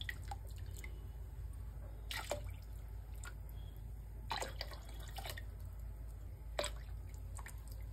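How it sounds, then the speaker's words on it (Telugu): Milk poured into a pot of sago and jaggery payasam, heard as scattered splashes and drips over a steady low background hum, with irregular wet bursts at intervals. "ఇలా ఒక 4 కప్పులు పాలు వేసుకొని ఒకసారి అంతా బాగా కలుపుకోండి"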